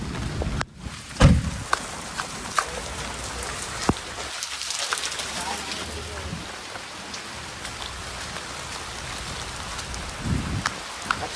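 Steady rain falls on surfaces, a dense hiss of drops continuing throughout, with occasional nearby knocks and rustles and brief low sounds breaking through.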